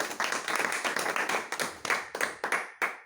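A small audience at a book presentation claps for the guest: a short burst of fairly close, distinct handclaps with an uneven rhythm, thinning out into a few separate claps before it stops.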